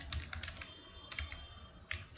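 Quick bursts of keystrokes on a computer keyboard, clicking close and clear in a few short runs separated by pauses.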